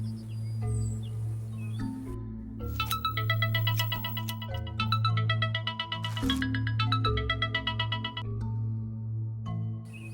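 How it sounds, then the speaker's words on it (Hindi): A phone ringtone plays for about ten seconds while a call is being placed, with a steady, loud melodic tone repeating in bursts over a continuous low hum and no talk. "मैं नागराज को फोन करता हूँ।"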